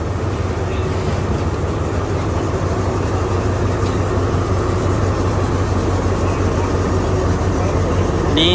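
A train locomotive at the Thai border crossing gives a loud, steady, close diesel rumble that holds unbroken throughout, with no other sound clearly rising above it.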